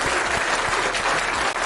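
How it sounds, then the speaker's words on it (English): A round of applause, dense continuous clapping from a group that sounds steady and fairly loud throughout, with no voices over it. "we'll give Baymack a round of applause"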